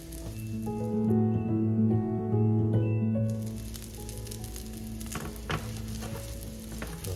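Micro shrimp fritters frying in a pan over medium-high heat, giving a steady close sizzle under a sustained tonal hum, followed by a few sharp clatters as the pan is handled.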